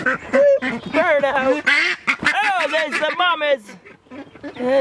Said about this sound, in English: There's some ducklings.